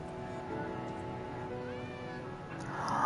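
A cat in the video game Lies of P gives a soft meow or two over a steady ambient game soundtrack, fairly faint and brief with no talking.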